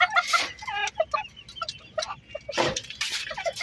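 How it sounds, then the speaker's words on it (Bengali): Chickens, including a Barbudian-type breed, cluck on a farm in short, repeated bursts close by, with a few louder squawks breaking through the busy chatter. "আমার মুরগি ধরতে খুব ভাল লাগে আসলে, বিশেষ করে এই টাইপের মুরগি"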